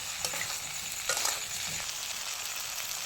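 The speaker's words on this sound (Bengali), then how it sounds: "দিয়ে একটু নাড়িয়ে চাড়িয়ে নেবো" Soaked soybean chunks being stirred with spiced potatoes in a frying pan, giving a steady close sizzle with scraping spoon strokes throughout.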